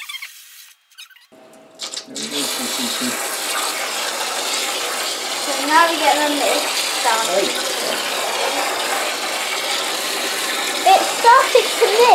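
Water runs steadily from a hose pipe into a container in a hydroponic greenhouse DWC setup, a continuous close hiss and splash lasting most of the stretch after a few brief mechanical clicks at the start.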